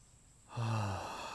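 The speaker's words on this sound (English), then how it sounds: "I'm breathing to do it right now" A single deep breath during a breathing exercise, heard close up: quiet at first, then a full, sigh-like exhale that slowly fades.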